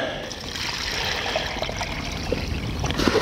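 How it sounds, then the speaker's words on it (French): Water poured directly into a fishing groundbait mix for a bream feeder session, a steady close trickling and splashing that runs continuously, with a voice speaking faintly underneath. "on va mettre de l'eau directement"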